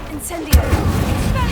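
Incendio fire spell cast in the Hogwarts Legacy video game: a sudden loud burst partway through, trailing into a sustained rumbling roar of flame.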